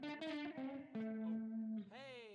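An electric guitar plays sustained notes through an effects unit set to a short slapback delay, giving a bright, distorted tone with quick echoes, heard close and clear without talk.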